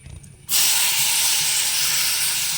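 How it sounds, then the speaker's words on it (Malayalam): A sudden loud sizzle bursts in as tomatoes drop into hot oil in a pan while cooking biryani, following a quieter moment, then a continuous bright frying hiss holds steady to the end. "തക്കാളി വറുത്തേക്കാം."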